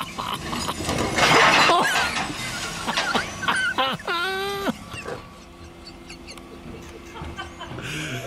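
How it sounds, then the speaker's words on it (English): Glass bottles and jars crashing into a recycling bin in a garden: a burst of bright shattering and clinking early on, amid several people talking and laughing nearby with squeaky voices and outdoor background noise. "let's listen for the crash of glass"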